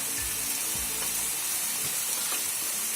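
Frozen fish fries in a pan with a steady, close sizzle and hiss, broken by a few soft low thumps of the pan or food shifting.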